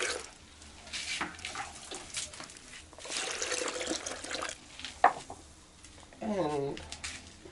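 Water poured into a pot while sorghum porridge is cooked in a village kitchen, gushing in short bursts of splashing and trickling. Faint birdsong and a brief voice come through in between.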